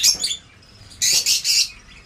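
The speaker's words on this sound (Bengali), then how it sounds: "বন্ধুরা দেখতে পাচ্ছ এখানে লুটিনোর পাখির বাচ্চা আছে" Young lutino pet birds, five to six months old, chirp loudly and shrilly up close in a few short bursts, separated by a brief quiet gap.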